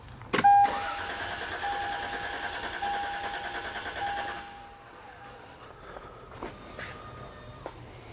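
A car engine cranks with the ignition disabled, a loud starter click followed by a steady rhythmic churning whir for several seconds, then quieter rattles and clicks as it stops.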